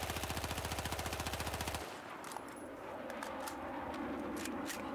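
An automatic weapon in the Battlefield 4 video game fires a rapid, evenly spaced stream of loud shots for nearly two seconds, then stops, leaving faint echoing tails and scattered distant pops.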